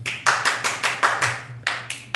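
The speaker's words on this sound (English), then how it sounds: "Put down your beer and applaud." A tiny studio audience of just a couple of people claps in short bursts, each smack crisp and close, about a dozen hand claps spaced unevenly with a brief pause before the last few.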